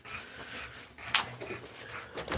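Wednesday, a dog out on a walk, pants softly and rhythmically close by in quiet outdoor surroundings, with a brief sharp tick partway through.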